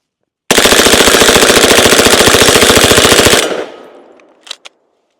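An MP5/K submachine gun fires a full magazine in one loud, fast, steady burst of about three seconds, then a ringing tail and a couple of brief clanks.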